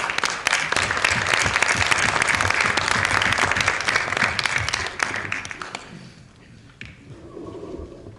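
Attendees at a school district board meeting give a loud, full round of applause that carries for about six seconds before fading into quieter room sound.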